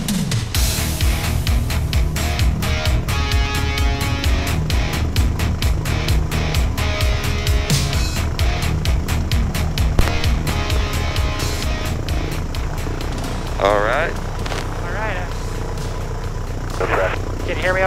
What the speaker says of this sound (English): we got in the plane and started up the engine, and then he started showing me some of the basics of how to taxi on the water